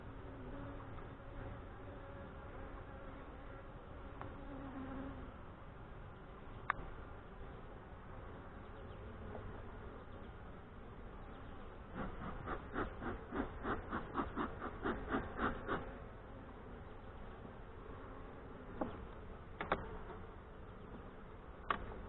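Honey bees from a Saskatraz colony hum steadily throughout a hive inspection in northwest Wisconsin, a dense continuous drone with a few sharp clicks and taps from handling the frames.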